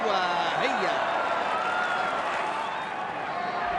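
Red and green supporters at a 1999 rugby league match between St George Illawarra and South Sydney applaud and cheer as a distant crowd roar, under a commentator's voice.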